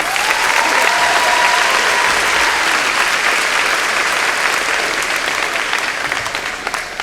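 A commencement audience applauds in a large hall, a dense, sustained wash of clapping that stays loud and steady before tapering slightly toward the end.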